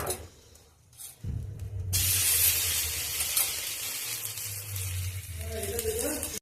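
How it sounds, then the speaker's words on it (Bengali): Butter hits a hot wok and sizzles steadily, a close, moderately loud frying hiss as it melts, following a soft clatter at the start. "কড়াই গরম হয়ে গেছে, আমি এবার মাখনটা তুলে দেব।"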